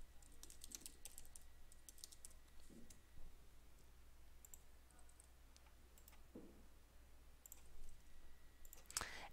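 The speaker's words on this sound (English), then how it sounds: "let me key in my Twitter username and password" Computer keyboard keys tapped while entering a Twitter username and password on a login page, a steady run of quick, fairly quiet clicks with short pauses and a brief louder burst at the end.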